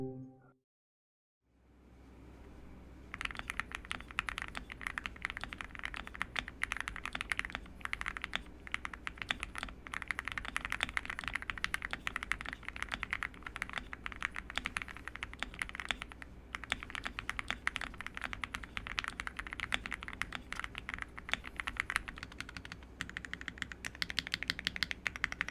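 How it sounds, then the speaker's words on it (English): Steady, continuous typing on an MW65 acrylic gasket-mount mechanical keyboard, a dense stream of soft, muted keystrokes close up, with no voices. "Now, the most anticipated part, the typing test."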